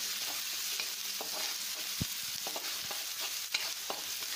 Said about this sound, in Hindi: थोड़ा सा चला दें इसको क्योंकि तेज़ गैस पे हम भून रहे हैं इसको तो प्याज जल्दी भून जाएगी